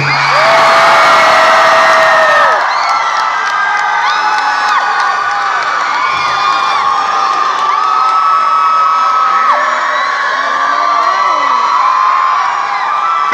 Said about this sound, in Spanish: Reciban con un gran aplauso a los Daniels.